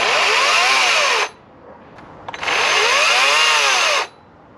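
Electric chainsaw revving in two bursts, each a loud close whine that cuts off quickly, with a short quiet gap and a couple of clicks between them.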